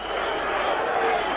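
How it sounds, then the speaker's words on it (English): A packed boxing crowd at Festival Hall, Melbourne, in 1986, roaring for Barry Michael against Mark Fernandez as a steady, sustained wash of cheering noise with no clear breaks. "Crowd roaring for Barry Michael as he piles in on top of his opponent"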